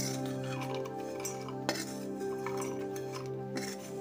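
Roasted peanuts are moved into a steel mixer jar with light clinks and scrapes of utensils against metal, one sharper clink standing out among quieter handling sounds.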